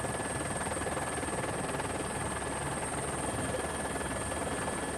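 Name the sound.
helicopter landing at a hangar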